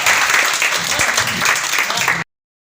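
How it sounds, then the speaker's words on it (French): Loud, dense clapping from a school slam poetry festival audience in Dapaong, a continuous wash of hands that runs about two seconds and then cuts off abruptly. "On acclame très fort."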